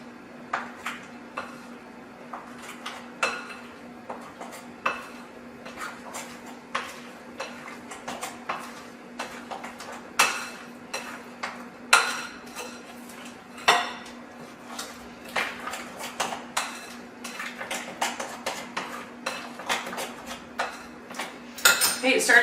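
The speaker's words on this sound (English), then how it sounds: "Give it a good mix." Banana chocolate chip muffin batter being mixed in a slightly small bowl, with a utensil clinking and scraping against the sides in quick irregular taps, fairly close and moderately quiet, with no voices over it.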